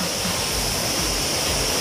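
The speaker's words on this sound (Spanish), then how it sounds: "a un lado está la cascada" Steady roar of a waterfall close by, a constant broadband rush of falling water that fills the whole stretch without voices.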